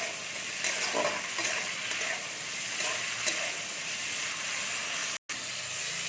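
Cut yard-long beans fry in hot oil in a village kitchen, giving a moderate continuous sizzle with soft stirring scrapes and a brief dropout near the end.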